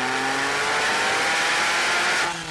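A Porsche 911 sports car engine revs hard and climbs in pitch as it accelerates, loud and steady, then eases off at the end.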